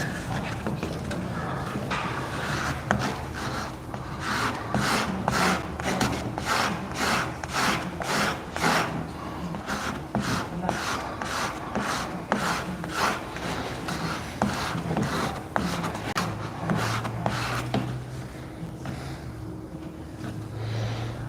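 Steady rhythmic back-and-forth rasping as an Ace Jumbo fine sanding sponge rubs along a metal blade, dozens of quick even strokes, close and fairly loud, slowing near the end.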